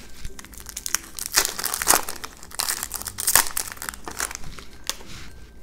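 Foil Pokémon Hidden Fates card packs being torn open and handled, giving a run of sharp crinkles and crunchy tearing bursts close up, with softer rustling between them and no talk.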